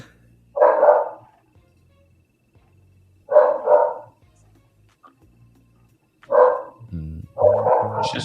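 A dog barks in three separate bursts spaced a few seconds apart, fairly close and loud, with quiet stretches between and some faint background sounds near the end.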